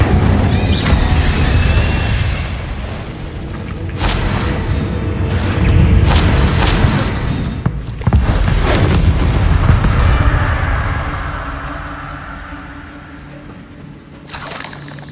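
Fire spells blast in Hogwarts Legacy combat, a dense roaring mix of booms and crackling bursts, loud and continuous, with a few sharp impacts before fading to a quieter rumble and one last hit.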